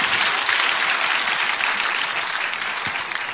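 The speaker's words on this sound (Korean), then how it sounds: "자 박수하겠습니다." Loud, dense applause from a church congregation during a sermon, a full continuous roar of many hands clapping close up, fading slightly toward the end.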